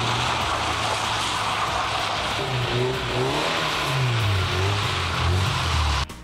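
Car engines rev and whine with rising and falling pitch at an ice race in Lensk, a steady loud roar of several engines lasting throughout, ending abruptly.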